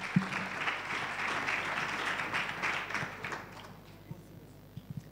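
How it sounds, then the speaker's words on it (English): An audience at an award ceremony applauds a winner, a full wash of clapping that holds for several seconds and then thins out to a few scattered claps, with some voices underneath. "Give him a round of applause."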